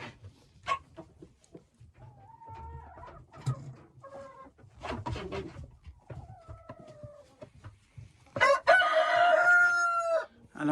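A Marans rooster crows loudly near the end, with hens clucking and calling in short bursts throughout and a Legbar hen nearby in a backyard flock.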